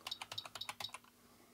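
Fast typing of a BASIC program on a German computer keyboard, a quick close run of about a dozen crisp key clicks that trails off into quiet after a second.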